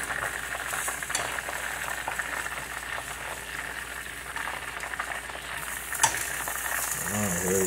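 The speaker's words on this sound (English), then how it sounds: "Give it a pan sear" Pork seasoned with onion powder and salt sears in a hot pan, a steady close sizzle and crackle running throughout with a brief clatter near the end, and no talk over it.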